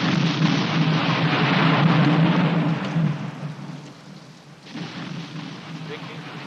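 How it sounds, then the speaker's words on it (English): Heavy rain pours steadily with a low rolling rumble of thunder from a storm scene in the movie Friday the 13th Part 2, loud and continuous, easing slightly midway before picking up again. "Vicky, is that you making that thunder noise outside"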